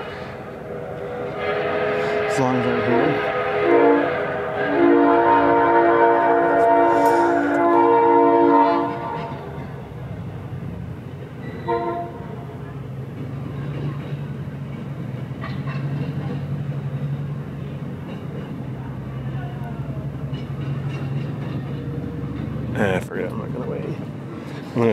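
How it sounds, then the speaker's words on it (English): Train passing at a railroad museum, a loud horn blast near the start rising over the rumble, then a long low rolling rumble of the cars; someone speaks briefly over it. "The train is coming."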